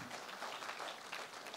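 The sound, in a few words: church congregation applauding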